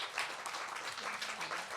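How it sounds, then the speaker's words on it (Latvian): An audience at a panel discussion event claps for the panel participants, a steady moderate patter of applause with a faint voice under it. "Es domāju, mēs visi varam veltīt arī aplausus šīs dienas paneļa diskusijas dalībniekiem."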